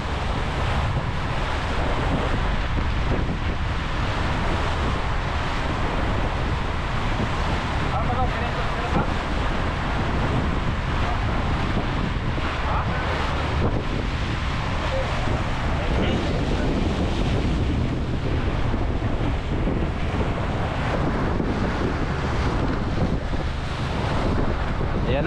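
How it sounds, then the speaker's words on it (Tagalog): Strong wind roars steadily across the microphone at sea, with waves and boat noise mixed into a constant loud rush. "Mahangin na naman mga kabisig."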